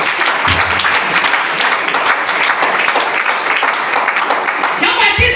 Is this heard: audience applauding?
yes